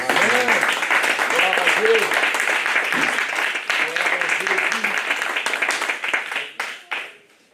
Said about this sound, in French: Quelqu'un peut acclamer la parole de Jésus.